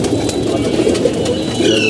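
Pigeons coo softly and repeatedly at a pigeon keeper's house, low throaty calls overlapping close by against faint background noise.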